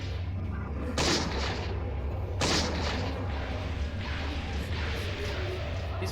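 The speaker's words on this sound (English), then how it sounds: "Going mad, firing pistols at weird things." Flintlock pistol shots in a video game: two loud booming reports about a second and a half apart, each with a long rumbling tail, over a constant low background drone.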